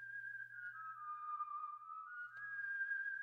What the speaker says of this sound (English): I like the whistle.